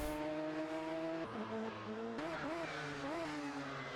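Race car engine at full throttle in the GT Club racing game, a loud steady high-pitched roar whose pitch dips on gear shifts and then climbs again as the car accelerates out of a hairpin exit.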